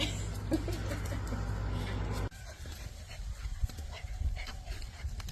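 A rescued dog pants rapidly and close by, a steady rhythmic breathing that carries through the whole stretch amid some background handling noise.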